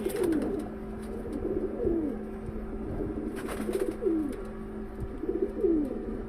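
Pigeons coo nearby in a loft, about four soft rolling calls repeating at a steady pace over a low background hum, with no talking.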